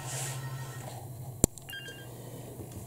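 Quiet telephone tones in a room: a low steady hum, then a single sharp click and a short high beep pattern, faint and distant.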